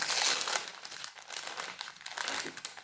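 Close crinkling and crackling of plastic packaging being torn and handled, in uneven bursts that rise and fall over a few seconds.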